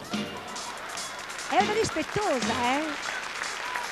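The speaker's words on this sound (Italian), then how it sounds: "Chiama gli applausi." Circus audience applauding during a trained seal act, clapping rising under an Italian man's speech, with a brief high animal-like call partway through.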